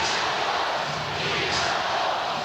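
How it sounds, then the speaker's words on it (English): A packed arena crowd at the Delta Center during a 1998 NBA Finals basketball game roars continuously, a loud, dense wash of cheering with no distinct voices rising above it. "Listen to this crowd at the Delta Center."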